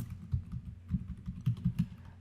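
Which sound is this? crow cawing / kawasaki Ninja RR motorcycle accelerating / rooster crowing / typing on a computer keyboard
typing on a computer keyboard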